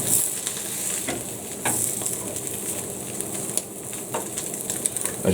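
A ham and sausage omelette with mozzarella sizzles steadily in a frying pan, a continuous close crackle with occasional sharper pops and a brief clatter as it is flipped.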